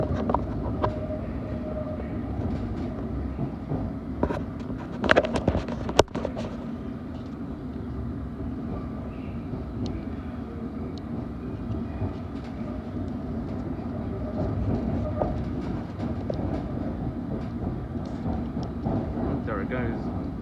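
Metropolitan line Underground train pulling away from Aldgate and running between stations, heard from inside as a steady close rumble with wheel clatter, occasional sharp rail clicks and a voice briefly over it.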